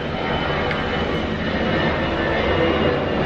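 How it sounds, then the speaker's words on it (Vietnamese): An airplane flies over near the end of Chiang Mai airport, a steady broadband engine roar that stays loud and constant throughout, with no talking. "Các bạn có nghe tiếng máy bay không?"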